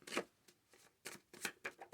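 Tarot cards being shuffled by hand in a quiet room, several quick papery riffles and slaps in irregular bursts with short pauses between, close and fairly soft, no talking.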